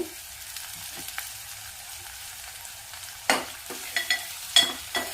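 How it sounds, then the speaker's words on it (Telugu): Onions are being fried and stirred in a pan with chilli powder and salt. A soft, steady sizzle runs underneath several sharp spatula scrapes and knocks that cluster in the last two seconds, and no voice is heard. "ఉల్లిపాయ వేగిపోయింది కదండి. ఉల్లిపాయ కొద్దిగా దూరగా వేగిన తర్వాత కొంచెం కారము, అట్లనే ఉప్పు,"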